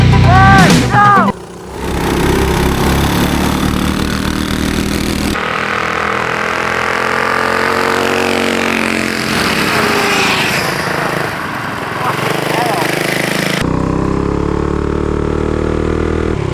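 A Mega Moto 212 mini bike engine runs at a steady, loud drone through a test ride in wet weather, with brief pitch changes near the start and end.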